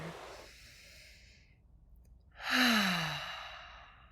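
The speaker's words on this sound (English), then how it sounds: "How about we take a deep breath together?" A deep breath: a soft drawn-in inhale fades out, then after a short pause a louder, longer exhale sighs out close by, with no talking.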